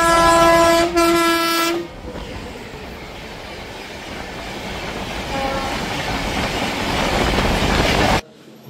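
The Purulia–Howrah superfast express running, its horn blaring loud and sustained at the start before giving way to a steady rolling rumble and rattle of the carriages at close range.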